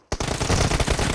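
Gunfire in the mobile battle game PUBG Mobile: after a split second of silence, a loud, close burst of rapid automatic shots rattles out.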